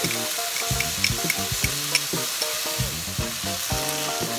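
Shrimp fried rice with soy and oyster sauce stir-fries in a hot pan, sizzling loudly and continuously with quick tossing scrapes, over a tonal musical backing and no speech.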